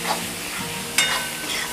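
Chili powder, coriander powder and chili flakes fry on a high flame with a soft, close sizzle and stirring scrapes, then a sharp spatter near the middle.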